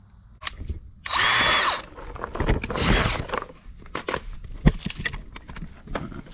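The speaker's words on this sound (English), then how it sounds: "I want to just see how that bites when I drill versus the screw." Two bursts of a whirring power drill boring into the fender liner of a Nissan 300ZX, the first a steady high whine, followed by scattered clicks and knocks as material is worked.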